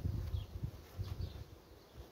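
Honeybees in a hive hum with a low, steady, faint drone that swells and fades in soft pulses, and no voices can be heard over it.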